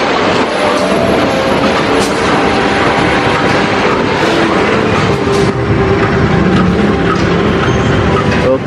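Loud and continuous, the Tegal Bahari economy train, hauled by a CC 201 diesel locomotive, pulls into a station with a heavy rolling rumble and a thin high wheel squeal that lingers for the first few seconds.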